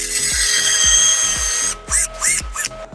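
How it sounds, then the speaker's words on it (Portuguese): Power drill boring holes in a wardrobe panel through a drilling jig for dowels and minifix fittings: a loud, steady whine with repeated low knocks, then short drilling bursts near the end. "Depois que ela está colocada, aí sim eu faço a usinagem."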